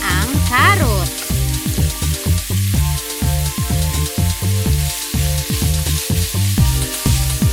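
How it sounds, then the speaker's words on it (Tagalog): Carrots fry in hot oil in a pan for chicken caldereta, giving a steady bright sizzle beneath rhythmic background music. "Lutuin sa oil ang carrots."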